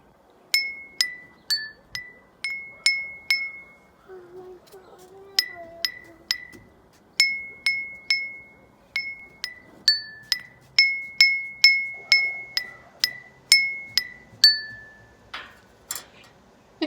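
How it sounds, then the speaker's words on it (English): Water-filled drinking glasses are struck one at a time to play a simple melody, bright ringing clinks in a steady rhythm, each tone decaying quickly, with a few soft murmurs in between. "when we fill the glass with a little bit of water, or number 1, we hear a low pitch"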